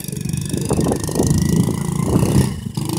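A Honda ATC 110 three-wheeler engine running rough and bogging, a loud, close, uneven sputtering drone with wind buffeting over it.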